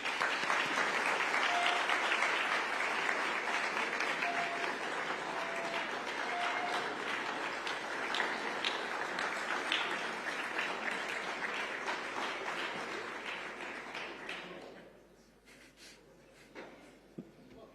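Sustained audience applause at a U.S. ceremony for the permanent Jerusalem embassy site, steady dense clapping from a crowd that gradually thins and fades out near the end, leaving a few scattered claps.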